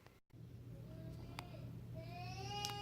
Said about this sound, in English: He's okay, but just whining a little bit